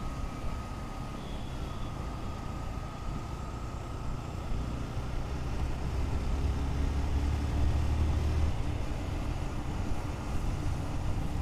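A motorbike rides through Dhaka city traffic, a steady engine drone and road rumble under constant wind buffeting on the microphone, with passing vehicles swelling slightly louder toward the end.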